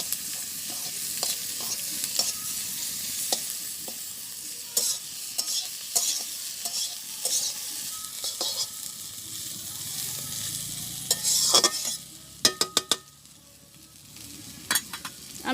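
Sliced onions frying in oil with a pinch of salt and turmeric in a home village kitchen, a steady sizzle under repeated scraping stirs of a spatula in the pan, close and fairly loud.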